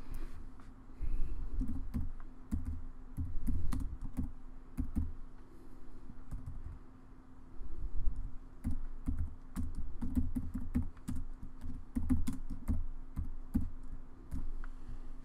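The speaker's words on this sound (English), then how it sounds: "I'm going to type in my text here." Steady typing on a computer keyboard while entering lettering text in EmbroideryStudio e4 software, close and clear, with irregular runs of keystrokes and short pauses over a low hum.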